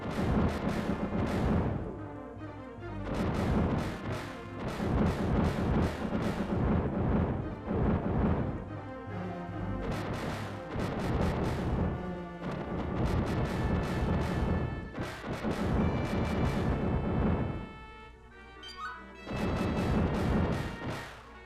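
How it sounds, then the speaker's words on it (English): Droids blowing up in the 1992 SNES game Super Star Wars, loud crashing explosion bursts repeating in clusters over busy game music and effects, with brief lulls between. "So these droids explode after you beat them, which makes them dangerous."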